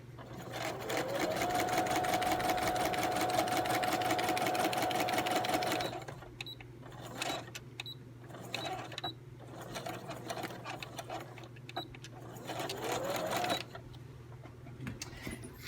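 Sewing machine running steadily for about six seconds while stitching a craft envelope project, then stopping, followed by lighter handling sounds and a brief final run.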